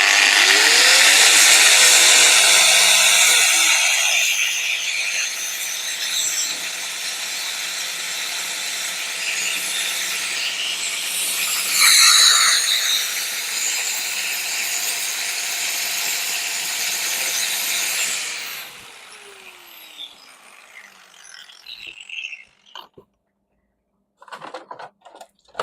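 An angle grinder runs in a bicycle workshop, cleaning out a bike part, a loud steady whine with shifting pitch as it bites the metal for about eighteen seconds, then winds down to scattered clanks and handling noises.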